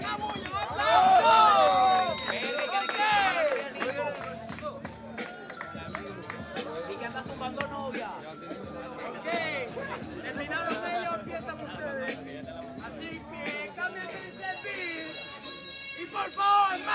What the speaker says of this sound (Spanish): ¡Una bulla, una bulla, una bulla! ¡Un aplauso!